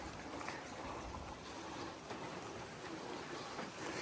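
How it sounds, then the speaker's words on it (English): Steady heavy rain falls outdoors around a parked 2021-or-later Honda Ridgeline, a dense continuous hiss of drops pattering on surfaces with no voices. "It's raining out here a lot."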